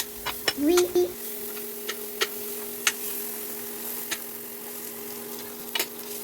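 Garlic and ginger sizzle in a hot pan for Filipino chicken tinola, a soft steady frying hiss broken by occasional utensil clicks, with a brief tonal voice-like sound near the start.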